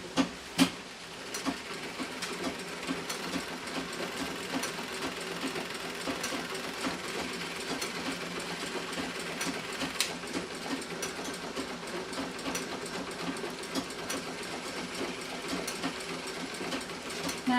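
An antique Singer treadle sewing machine winding thread onto its bobbin, giving a steady, soft mechanical whir and rattle with a few sharper clicks near the start, fairly quiet and without talk.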